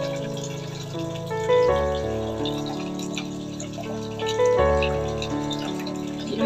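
Tap water runs steadily for bathing a cat, a continuous close gushing stream carrying a steady humming resonance, with no voices over it.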